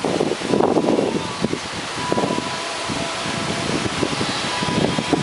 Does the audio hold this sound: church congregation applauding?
no